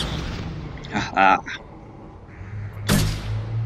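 Gunfire from combat against enemies in the video game Mass Effect 2. A short laugh comes first, then one sharp, loud burst followed by a low, rumbling tail.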